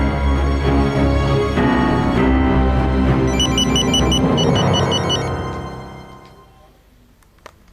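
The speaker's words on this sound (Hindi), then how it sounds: "होटल से फोन आ रहा है मुझे" A phone ringtone plays loudly with a repeating electronic melody, then fades away and stops.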